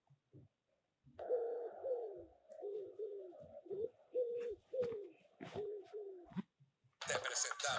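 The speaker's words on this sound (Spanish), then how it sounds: "Paloma." A pigeon coos in a steady run of about ten soft, rounded calls, clear and close, followed by a brief burst of broadband noise at the end; the setting is a children's cartoon of animal sounds.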